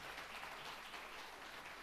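An audience at a conference panel on data quality and AI claps to welcome a Walmart Labs product director. Dense, steady applause stays fairly even throughout, with no clear talk over it.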